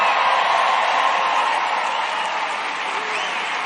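Dense crowd noise fills a packed rally arena, a steady wash of applause and cheering with scattered whoops holding loud and even throughout.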